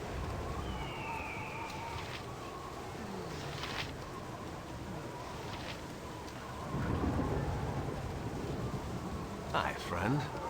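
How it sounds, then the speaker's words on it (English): Heavy rain hisses steadily through a stormy night in Baldur's Gate, with thunder rumbling low and building louder toward the end, and brief higher cries and effects scattered over the downpour. "Rainy and stormy night."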